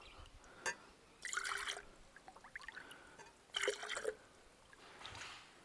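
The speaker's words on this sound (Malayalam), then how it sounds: "നമുക്കിതൊരു ജഗ്ഗിലോട്ട് ഒഴിച്ചു കൊടുക്കാം കേട്ടോ" ABC juice is poured into a jug in a few separate bursts of liquid splashing and trickling, close and fairly quiet, with pauses between pours and no talk.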